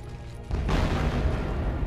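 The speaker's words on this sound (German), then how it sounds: "Explosion" A deep explosion in Mass Effect 3 bursts in suddenly after a brief quiet moment, followed by a sustained heavy rumble and roar.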